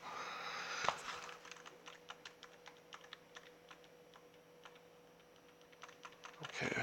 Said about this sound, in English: And we'll get the wireless keyboard.